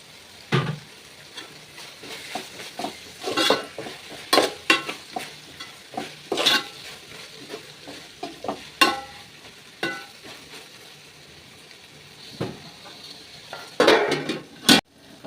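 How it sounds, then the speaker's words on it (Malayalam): Onions sautéing with turmeric powder and ginger in a pan, with a soft sizzle under repeated sharp scrapes and clinks of a spoon stirring against metal, irregular and close, no voices. "മഞ്ഞൾപ്പൊടികൾ ഇട്ട് കൊടുത്തിട്ട് ഒന്ന് വഴറ്റിയെടുക്കാം"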